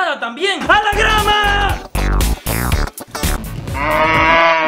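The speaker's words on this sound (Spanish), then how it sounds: "¿Y eso qué? ¿Una vaca?" A cow lows in a few drawn-out, loud moos, with voices briefly mixed in during a comic scene.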